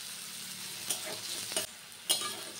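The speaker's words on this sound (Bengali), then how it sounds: "তো আলুটাকে কিন্তু এবারে একটু ভাজা হচ্ছে" Potato pieces fry in a pan with a steady low sizzle, broken by three brief scraping stirs of a spatula; close and fairly quiet, with no one speaking.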